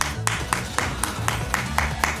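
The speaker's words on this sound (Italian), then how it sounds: "quanti applausi" Applause in Fortnite: a rapid, even train of crisp claps, about four per second, close and steady, over a low hum of background game sound.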